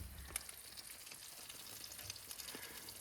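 Enchiladas sizzle and crackle inside a small oven in a van, a steady close frying hiss with brief pops throughout, no voices.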